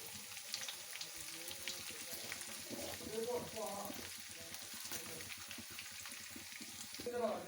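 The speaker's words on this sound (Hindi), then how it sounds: "इसको अब हम लो फ्लेम पे इसको भूनेंगे" Steady sizzling and crackling of chicken frying on a low flame for karahi, with occasional stirring scrapes throughout.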